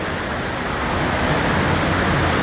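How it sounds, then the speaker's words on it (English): Spring water gushes out from underneath an old mill, a loud, steady broadband rush like a small waterfall heard up close, with no voices over it. "look at that spring water coming out of there."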